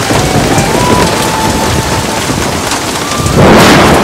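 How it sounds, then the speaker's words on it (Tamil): Heavy rain pours down in a thunderstorm, a loud, dense hiss of rainfall throughout, with a deeper rumbling swell near the end. "கனமழை இன்னும் நீடிக்கும்"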